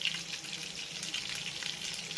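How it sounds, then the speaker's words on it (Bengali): Several prawns frying in hot oil in a pan for a pakora-style prawn dish, a steady close crackling sizzle with continuous bright spitting, heard alone without talk. "বেশ অনেকগুলো চিংড়ি মাছ আমি গরম তেলে ছেড়ে দিয়েছি"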